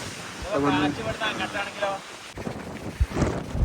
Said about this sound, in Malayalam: നല്ല കാറ്റാണ് ഭയങ്കര കാറ്റാണ്